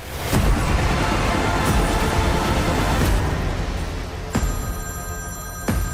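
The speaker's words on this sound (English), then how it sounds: "Pick up the phone, James." A telephone rings in short bursts over a dense, noisy background, with the clearest ringing toward the end.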